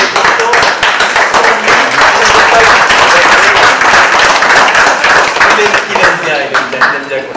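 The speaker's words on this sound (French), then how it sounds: "je demande de l'applaudir" Audience applause at an outdoor Waterloo event, a loud, sustained burst of many hands clapping that stays full and even before easing slightly at the end, with a voice mixed in.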